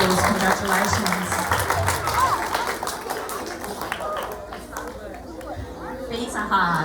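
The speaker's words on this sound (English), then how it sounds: "Give those 5/6 students a round of applause." Applause and clapping from a school assembly crowd, dense and steady across the whole stretch with some chatter mixed in, fading slightly toward the end.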